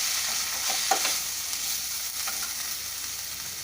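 Coriander powder being stirred into baby potatoes for biryani in a frying pan, producing a soft steady sizzle with a few scraping strokes of the spoon near the start.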